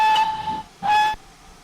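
A GWR pannier tank steam locomotive whistle in Train Simulator Classic sounds two shrill, clear blasts, a longer one followed by a shorter one, with a steady hiss underneath and no talking.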